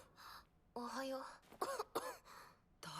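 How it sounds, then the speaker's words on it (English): An anime character coughs in several short, rough bursts separated by pauses, close and clear, with brief voiced sounds between the coughs. "that sounds like quite a cough"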